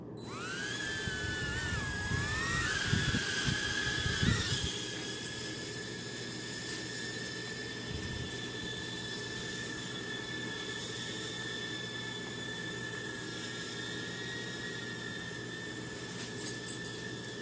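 The motors of a Tiny Whoop micro drone arm and spin up with a shrill, rising whine that settles into a steady high-pitched buzz, with brief throttle bursts near the start and end.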